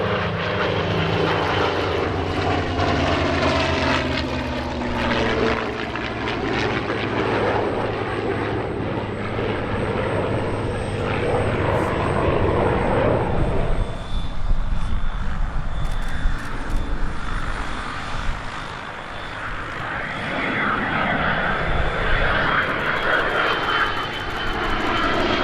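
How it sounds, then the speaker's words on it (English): An F-22 flying a heritage formation with a P-51 Mustang and a Skyraider at the EAA AirVenture Oshkosh 2023 airshow, producing a loud, continuous engine roar that swells and shifts slightly as the aircraft pass, with no talk. "The F-22 also performed a heritage flight with a Mustang and Skyraider."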